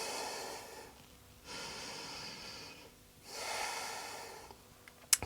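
Deep, slow breaths drawn through the nose and released during a wheel pose in an advanced vinyasa yoga class, close and airy, two long inhale-exhale cycles with no talking.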